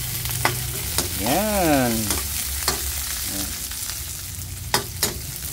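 Garlic and onion fry in a pan with a continuous close sizzle. Sharp clacks of stirring punctuate it, and a brief tonal squeal rises and falls partway through. A short word is spoken.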